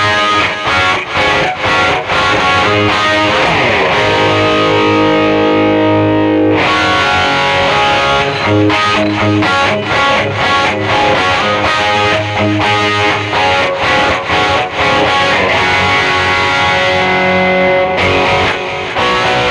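An electric guitar with a distorted tone through a Boss eBand JS-10 with reverb plays loud chords and riffs, ringing out alone.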